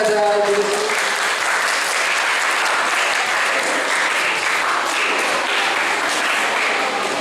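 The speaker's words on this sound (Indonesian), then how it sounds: "Tepuk tangan kepada Ibu Rizky." Steady applause from a crowd at a school disaster drill fills the room without pause, with a brief voice at the very start.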